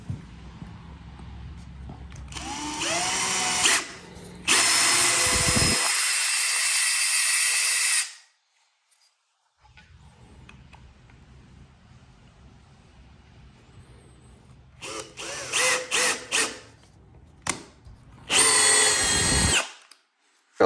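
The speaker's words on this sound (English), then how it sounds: "You can use it in a drill," Power drill running with a Wera Rapidapter bit holder, long loud whirring runs with pauses between them, then shorter bursts, close up and without talk.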